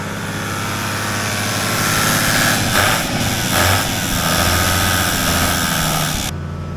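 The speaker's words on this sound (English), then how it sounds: "he's literally just sitting in there listening to the 1HD FTE tick over like a Swiss" Diesel engine of a flood-damaged Toyota LandCruiser HDJ100 with the 1HD-FTE turbo diesel idling, a loud, even, continuous drone with a low hum that holds steady throughout and cuts off abruptly near the end.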